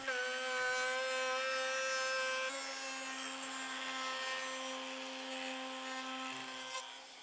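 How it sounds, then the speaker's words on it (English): A router fitted with a rabbeting bit cuts a 1/4 to 3/8 inch deep rabbet around the outside edge of a wooden board, its high steady motor whine shifting slightly in pitch as the cut progresses, loud and close without voices. "then chucked a rabbeting bit into my router and ran it around the outside edge"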